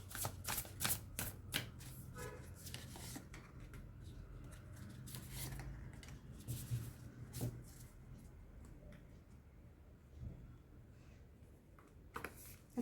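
Tarot cards are shuffled and drawn by hand in a quiet room, making a steady run of soft rustles, flicks and light taps that go on for several seconds.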